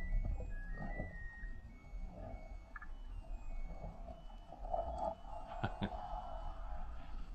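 A washing machine plays its end-of-cycle melody, a short run of electronic beeping tones heard faintly in the background against a low steady hum.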